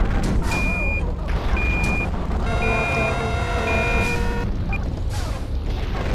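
Reversing beeps from a truck in a video game: a steady run of evenly spaced electronic beeps over a rumbling engine and background game noise.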